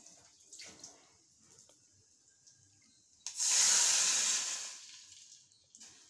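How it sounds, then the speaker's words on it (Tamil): Rice-washing water is poured into a pan of fried chillies and cumin in one brief rushing splash, loud and close, after a few quiet moments of faint clinks. "இந்த கழனி தண்ணியை ஊற்றிடும்."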